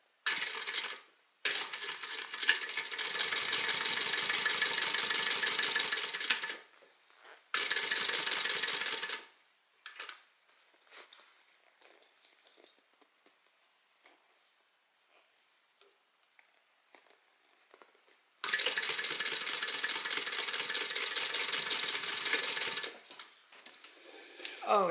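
A sewing machine stitches an evening bag in fast, close mechanical bursts, a long run, a shorter one, then a quiet gap with faint handling noises before a final long stitching burst.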